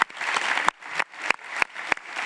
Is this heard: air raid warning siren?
no